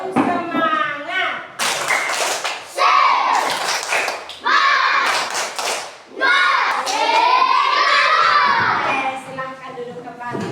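A group of children performs a rhythmic clapping chant in a classroom, bursts of hand claps and thumps mixed with loud shouted young voices, close and lively throughout.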